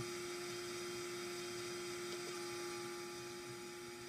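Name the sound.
model airplane motor at half throttle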